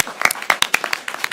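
Brief, scattered clapping from a small audience at a special board meeting, a few sharp claps spaced irregularly over a second or so, with some background voices.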